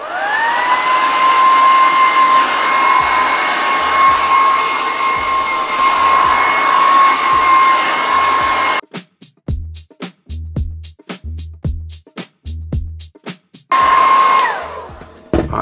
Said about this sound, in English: we've got the trusty pink hairdryer